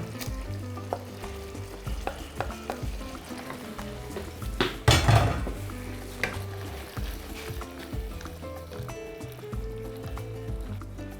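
Mushrooms sizzle steadily in a hot pan, returned to cream sauce for pasta, with occasional scrapes and clinks of a utensil stirring them.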